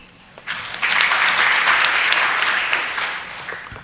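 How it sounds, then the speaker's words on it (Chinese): A conference audience at PyCon APAC 2014 applauds to welcome a speaker, a steady crowd of clapping hands that swells quickly and sustains for several seconds before slowly tapering. "让大家以掌声来欢迎 Andy"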